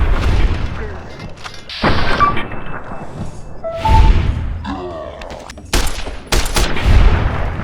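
Video game combat with a series of gunshots, booms and thuds arriving in irregular clusters, loud and punchy, mixed with sharp mechanical effects and brief tonal game sounds.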